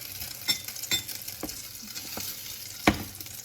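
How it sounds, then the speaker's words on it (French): Slice of French toast frying in a pan, a quiet steady sizzle with a few soft taps and scrapes of a utensil against the pan. "Et tout de suite, on envoie la deuxième tranche du pain perdu."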